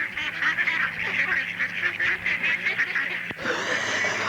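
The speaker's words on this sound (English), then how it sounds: "Quack, quack, quack." A flock of ducks and geese honks and quacks continuously, a dense, busy chorus of overlapping nasal calls with a steady choppy rhythm, ending in a brief thump and a shift in the din.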